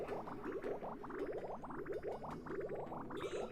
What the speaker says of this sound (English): this should now allow that water to be dumped out. And then more water should go in